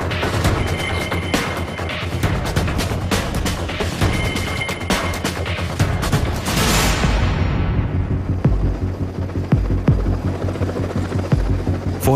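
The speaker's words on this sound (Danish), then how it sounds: "Piraterne skal opdage helikopteren så sent som muligt, flyver Brumbas ind over moderskibet med solen i ryggen." Military helicopter flying in low over a naval mothership during a counter-piracy operation: a loud, continuous rotor and turbine roar with heavy thumping that holds steady throughout, the high whine fading partway through while the deep beat continues, with no voices.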